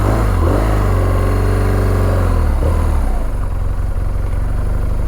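A motorcycle engine revs up and holds high during a slow, tight turn, then settles into a lower steady idle-like rumble, loud and close.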